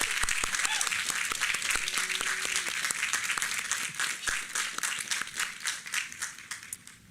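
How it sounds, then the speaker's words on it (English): Commencement ceremony applause for nursing graduates, a sustained wash of crowd clapping in a large venue with distinct sharp claps up close, holding strong before tapering slightly near the end. "Let's give them a round of applause."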